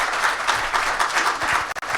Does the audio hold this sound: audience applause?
yes